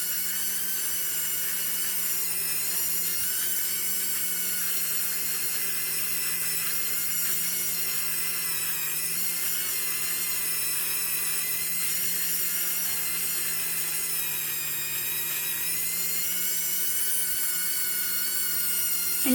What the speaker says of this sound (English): I'm being careful not to put my Dremel on the top because I don't want to take off any of the paint